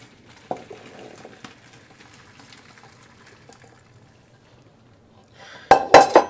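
Cooked tortellini being drained after five minutes, with a brief burst of water pouring and clattering against a pot and colander near the end, after quiet kitchen clinks.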